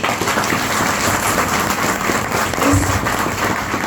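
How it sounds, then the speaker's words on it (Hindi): Audience at a training session for a wellness business plan gives steady, loud applause that fills the room evenly, with a brief low thump near the end and no talk over it. "मैं चाहूंगा इसके लिए जोरदार ताली दें।"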